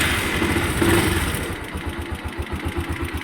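A motorcycle engine idles unevenly with its fuel hose removed during a tune-up, a fast, steady mechanical ticking rattle of loose tappets pulsing over the low running note, close and fairly loud.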